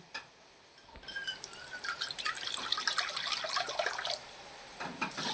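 Water is poured into a pot from a bowl to make sugar syrup for rasgulla, a few separate splashing pours and trickles, close and fairly soft.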